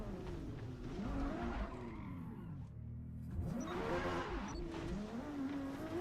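Car tyres squealing and skidding in the Forza Motorsport racing game, with sustained wavering screeches over a constant engine roar that dips briefly midway before the squeal swells again.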